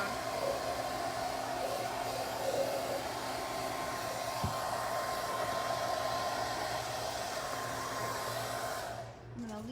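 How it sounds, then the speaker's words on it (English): A blow dryer runs continuously at close range, a steady loud whooshing roar with a faint tonal whine, cutting out near the end; no talking is heard. "This probably makes the blow dryer really loud."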